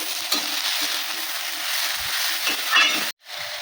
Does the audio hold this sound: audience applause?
no